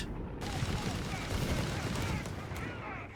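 Dense gunfire from massed small arms in the Company of Heroes 3 strategy game, a continuous crackling fusillade with low booms mixed in, steady and moderately loud throughout.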